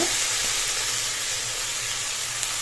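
Coriander and mint leaves frying in oil for mutton fry, a steady broadband sizzle running evenly throughout with no talk.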